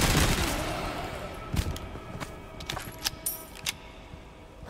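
Rapid gunshots from a shooter video game, Resident Evil 4, crack in a quick uneven burst and then thin out into scattered single shots over a steady background hum.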